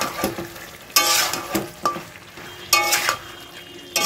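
Tomato paste with turmeric and salt being stir-fried in a pan, a spatula scraping and clinking in bursts over a steady sizzle, close by with no voices.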